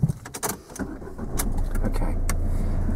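A manual car engine starts during a driving lesson: a few clicks and key rattles, then the engine catches and settles into a steady idle rumble, close up inside the cabin.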